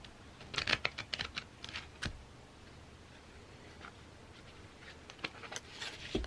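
Quiet, crisp clicking and riffling of tarot cards being shuffled in irregular bursts, close by, over a faint background hiss.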